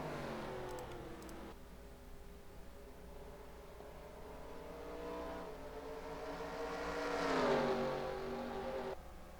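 Racing trucks in the NR2003 simulation game drone steadily at full throttle, with engine notes rising and falling as they pass, loudest near the end of the stretch.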